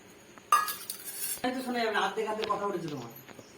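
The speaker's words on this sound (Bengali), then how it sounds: "চালটা আমি ধুয়ে নিই।" Rice being washed by hand in a metal bowl for chili chicken and Basanti pulao, with a sudden clatter and scraping of grains and utensil against the bowl, then steady swishing and clinking close by.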